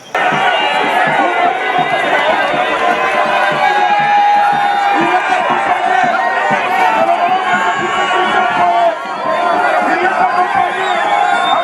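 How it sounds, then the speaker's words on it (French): A huge crowd at an outdoor welcome rally for a provincial authority at the central car park in Kasumbalesa, Haut-Katanga, cheers and shouts continuously, a loud dense roar of voices and whoops sustained throughout. "Des foules à perte de vue ont répondu présentes à la rencontre"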